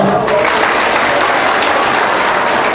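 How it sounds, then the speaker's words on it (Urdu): Participants at a teacher-training workshop at Al-Hamd Academy in Islamabad break into loud, close applause, a thick, steady patter of many hands lasting the whole stretch without voices. "تالیاں"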